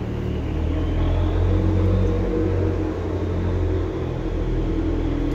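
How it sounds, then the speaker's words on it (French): Cars idle and pass in a parking lot, making a continuous low rumble and whir with no pauses and no one speaking. "je travaille dans un parking, donc vous allez entendre pas mal de voitures"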